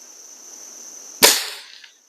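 A Diana 250 gas-ram air rifle fires a pellet: one sharp, close crack after a quiet lead-in, decaying quickly with a short metallic ring.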